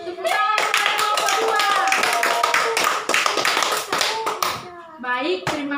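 Classroom applause for a student group during a teaching practice lesson, loud close handclaps from children rattling steadily for several seconds before thinning out, with brief voices at the end.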